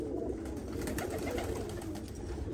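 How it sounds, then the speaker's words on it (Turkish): Cream-coloured female doves coo softly, a faint, low repeated cooing close by with no talk. "Arkadaşlar çok güzel kuşlar."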